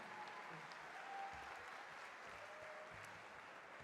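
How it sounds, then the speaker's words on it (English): Steady audience applause at a Polaris BJJ grappling event fills the air for the openweight champion after the match, a dense, even wash of clapping at moderate distance that holds without a break. "Ladies and gentlemen, big round of applause"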